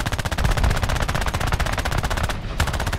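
Rapid cannon and machine-gun fire from a Fury Mk II fighter in War Thunder air arcade combat, a loud continuous stream of fast regular shots with a brief gap near the end before firing resumes.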